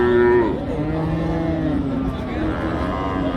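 A cow lets out a loud, drawn-out moo at a busy cattle market, over a noisy background of voices and crowd murmur.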